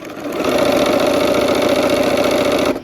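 A sewing machine stitches a Christmas quilt block with a steady, continuous motor hum and rapid needle rhythm, loud and close, running without pause for nearly the whole stretch before easing off at the end.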